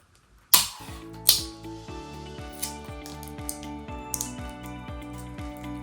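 Tape pulled and pressed down over sublimation earring blanks, two sharp tearing rips near the start followed by soft sticky taps and crinkles, quiet and close with no talking.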